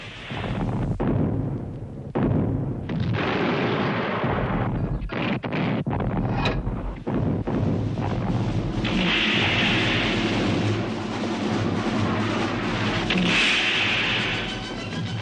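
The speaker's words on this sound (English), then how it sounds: "the Allied bombardment roared out, and the mountains echoed with its thunder" A World War I Allied artillery bombardment booms across mountains, with heavy, rolling blasts and long echoing thunder under gusty wind noise, loud and sustained throughout.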